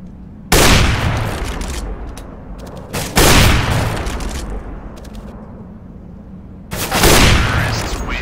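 Bursts of gunfire and grenade blasts in CS:GO on the Vertigo map, three loud broadband volleys with longer decaying rumble between them, close and dominant.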